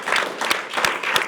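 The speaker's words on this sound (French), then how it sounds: "Et on peut d'ailleurs applaudir aussi Martial Bild" Studio audience applause during a French talk show, a brief stretch of steady clapping from a modest crowd with a few sharper hand claps standing out, no talk over it.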